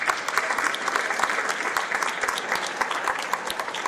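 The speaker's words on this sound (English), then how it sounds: "Give yourself an applause." Audience applause at a press conference celebrating ten years of PA Heart & Soul, a full, fairly loud burst of many people clapping continuously with no talk over it.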